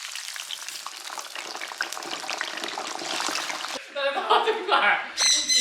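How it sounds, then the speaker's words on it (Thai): Thai meatballs deep-fry in oil over high heat, with a loud, continuous close sizzle and crackle; a voice begins talking over the frying near the end. "กรอบนอกนุ่มในเนี่ยให้ทอดไฟแรง"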